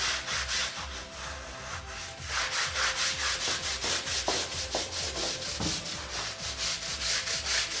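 A concrete floor is scrubbed with multi-purpose cleaner to lift algae and oil stains, giving steady rhythmic back-and-forth brushing strokes, close and continuous, with faint background music and no talk.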